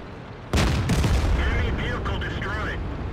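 A tank fires its cannon in a tank combat video game. A sudden heavy boom is followed by sustained loud rumbling, with a voice faintly underneath.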